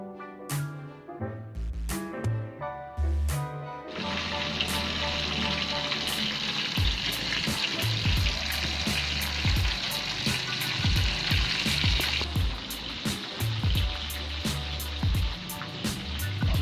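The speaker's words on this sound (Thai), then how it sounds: "เดี๋ยวเรามาทอดต่อกันเลยนะครับ" Shrimp tempura deep-frying in hot oil, a dense, steady sizzle with bubbling and crackle that swells loud after a few scattered clatters at the start, with no talking.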